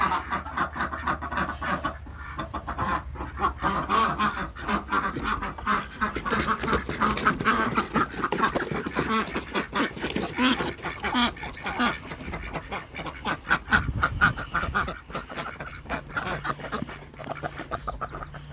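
Ducks being let out of their house quack and chatter in a busy, continuous flock, mixed with clucking fowl, close and steady throughout with a few louder calls standing out.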